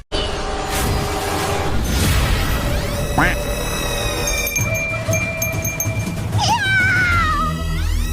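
A voice imitates a cat, drawing out several exaggerated, wavering meows over a steady background, loud and close.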